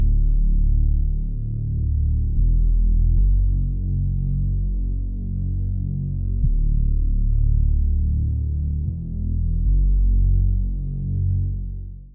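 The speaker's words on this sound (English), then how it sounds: "from here I had to add a bass" Deep, throbbing low-end bass fills a music loop, thick and layered, pulsing steadily with a few brief dips throughout.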